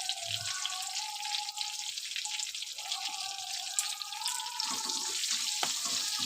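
Fish with salt and turmeric powder fries in hot oil, giving a steady close sizzle with soft crackles throughout and a few clinks near the end.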